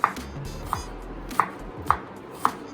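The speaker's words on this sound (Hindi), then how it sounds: "अब हम काटते हैं प्याज।" A knife finely chops onion on a cutting board in steady, separate strokes, five crisp taps spaced about half a second apart against quiet room noise.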